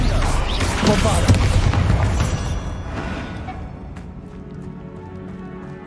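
A Bombardo blasting spell goes off in Hogwarts Legacy, a loud booming explosion with a dense roar that fades gradually over several seconds into quieter rumbling ambience.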